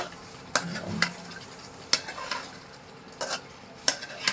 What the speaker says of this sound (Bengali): মশলার সাথে ভালোভাবে মিশিয়ে নিব।